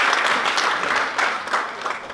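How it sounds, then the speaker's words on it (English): Audience applause at a literature festival greeting a guest called on stage: steady, dense clapping from a crowd, loud and sustained throughout with a few sharper swells, no voices over it. "Can we have a round of applause for Mr."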